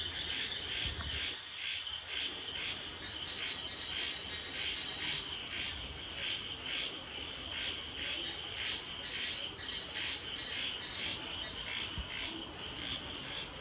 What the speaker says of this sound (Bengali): দেখো তো কি সুন্দর একটা আওয়াজ না বাইরে ব্যাঙের